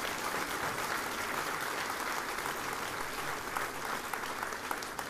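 Loud, steady audience applause for a group of folk dancers at an anniversary finale, a thick continuous clapping crowd with a few sharper claps near the end.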